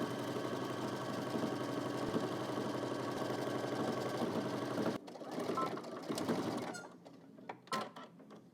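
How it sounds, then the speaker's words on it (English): A sewing machine stitches a 5/8-inch seam allowance all the way around a garment, humming steadily and close for about five seconds, then slowing into shorter bursts and handling noises. "let's head to the machine, and we're going to stitch all the way around using 5/8 of an inch seam allowance"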